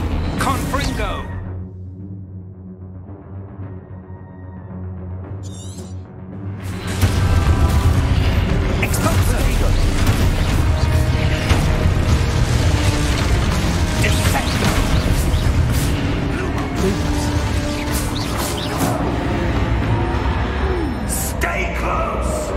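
Confringo spell explosions in the video game Hogwarts Legacy, a sudden loud blast after a quieter stretch, then a sustained roar of booming impacts and rumbling debris.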